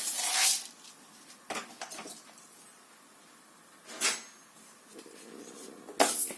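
Horse gram poured into a pressure cooker for dry-roasting on the stove, giving scattered clatters and rattling metal knocks with quiet stretches in between.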